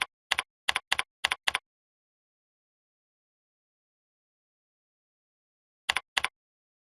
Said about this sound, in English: Here we can simply type a new description.